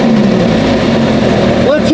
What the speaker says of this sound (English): Let's hear the Lamborghini purr.